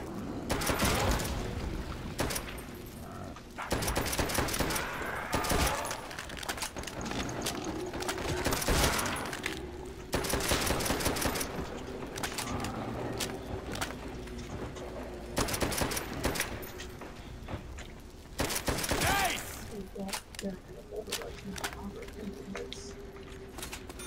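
Bursts of full-auto gunfire fill a Call of Duty World at War zombies match on the Verruckt map, repeated volleys firing in quick succession under ongoing game noise, with a voice briefly speaking between them.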